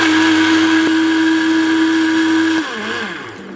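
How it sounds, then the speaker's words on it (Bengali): A kitchen blender runs at full speed with a loud, steady motor whine and whirring, then is switched off and the motor audibly spins down over the last second. "20 থেকে 30 সেকেন্ড চালিয়ে বন্ধ করে আবার চালালে ব্লেন্ডারটা ভালো থাকে।"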